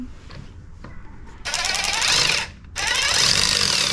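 A power tool tightens the bolts of a Ford mud guard on a 2021 Mustang Mach 1, firing in two loud, close bursts of rapid rattling hammering, with a brief pause between them and quiet ticks beforehand.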